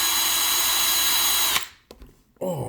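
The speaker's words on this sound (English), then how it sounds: "my green drill." A green power drill spins a makeup brush loudly for about a second and a half, then cuts off, leaving brief clicks and a short whirring rattle as it winds down.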